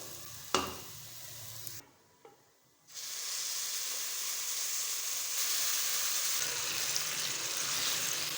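Sugar syrup poured onto a roasted mixture of leftover roti in a hot pan sets off a steady, fairly loud sizzle with stirring, after a brief clatter and a short near-silent pause.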